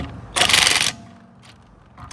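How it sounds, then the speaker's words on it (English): An impact wrench tightens bolts on the rear brakes of a 2016 VW Sportwagen, giving one loud, close half-second rattling burst followed by quieter mechanical ticks. "And then I'll use the impact to tighten them up a little"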